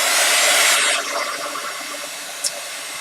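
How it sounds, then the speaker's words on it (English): A loud blowing hiss of a hair dryer runs close by, then cuts back to a lower, steady whoosh for the rest of the clip. "dryer again, so close your ears, turn your sound off"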